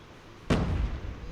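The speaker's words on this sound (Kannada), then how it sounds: "ಅಯ್ಯೋ ಮಚ್ಚ ಬಾಂಬ್." A bomb blast in the mobile shooter Call of Duty Mobile, a single sudden loud explosion that rolls into a rumbling, fading tail during a match.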